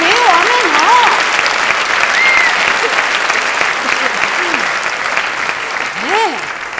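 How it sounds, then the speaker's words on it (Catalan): Loud, sustained applause from a comedy audience fills the whole stretch, steady throughout, with some voices and crowd noise mixed in. "M'aplaudiu, home, no?"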